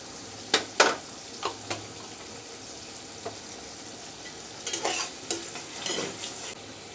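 Tomatoes with cumin powder and other spices sauté in a pan for a small mixed-fish curry, a continuous sizzle broken by several sharp scraping stirs of a spoon against the pan.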